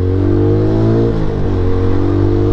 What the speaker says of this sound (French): on a un frein moteur qui entre en action tout de suite.